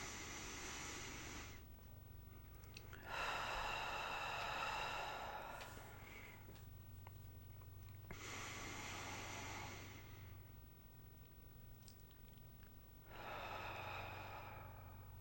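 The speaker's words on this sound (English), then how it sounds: "let's all take some nice deep breaths together" Slow, deep breaths drawn and released in three long, breathy swells with quiet pauses between, close and soft over a faint low hum, no voice.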